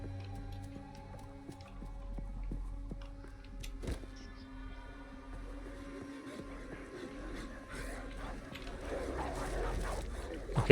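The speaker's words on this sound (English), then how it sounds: "Okay, a bunch of rabid dogs." Feral rabid dogs in Path of Exile 2 bark and whimper in short bursts among game sound effects and music, with a voice talking over it.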